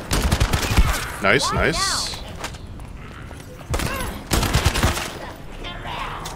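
Gunfire in The First Descendant video game, several loud bursts of shots at the start and again midway, separated by quieter stretches, with someone speaking briefly over the action.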